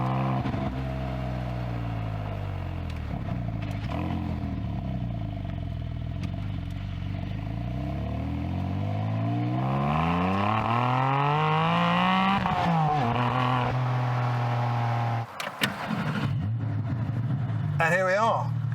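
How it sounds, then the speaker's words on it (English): A Porsche Cayman GT4 RS with a manual gearbox driving, its engine rising and falling through the revs with clear gear changes, heard loud and close throughout. "get out for a drive and chat around the car, what it's like to drive a manual GT4 RS"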